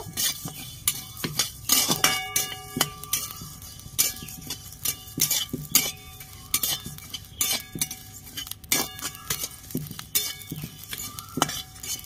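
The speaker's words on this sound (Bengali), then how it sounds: "গোটা ধনে দিয়ে দিচ্ছি, মৌরি, গোটা জিরে, 5 ফোড়ন সব একসাথে ভালো করে ভেজে নেব।" Whole coriander, fennel, cumin and five-spice seeds dry-roasted in a pan, with a spoon scraping and clinking against metal in brisk, irregular strokes, close and clear with no talk.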